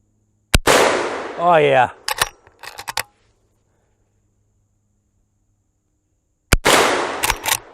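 A Henry lever action rifle in .44 Magnum fires two loud, sharp outdoor gunshots about six seconds apart, the first followed by a brief exclamation from a man and some handling clatter.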